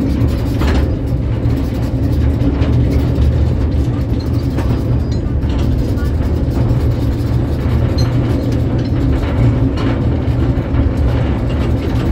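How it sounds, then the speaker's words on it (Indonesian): A lorry train of loaded sugarcane wagons rumbles past at the Madukismo sugar factory in Yogyakarta, a loud, continuous low rattle and clatter with no break. "deretan rangkaian gotrok atau lori pengangkut tebu yang penuh muatan"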